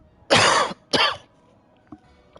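Two loud, close coughs from a character in a Final Fantasy 14 cutscene, a longer burst followed by a shorter one, then faint small sounds in a quiet scene.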